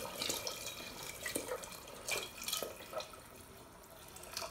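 Hot water poured into a cooking pot of chorba frik, an Algerian soup, gives a steady watery splash with small drips and bubbling, close and fairly quiet, with no talk.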